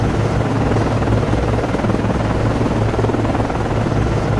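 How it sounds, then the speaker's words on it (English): An SH-60 helicopter lifts off from the deck of an Arleigh Burke destroyer at night in the Cold Waters naval game, its steady thudding rotor drone loud and continuous throughout, with no voices. "launching aircraft"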